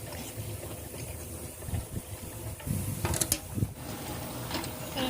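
A manual honey extractor spins after being loaded with more frames, giving a steady mechanical whir with ratcheting, clattering gear noises, fairly faint and close, with no talk.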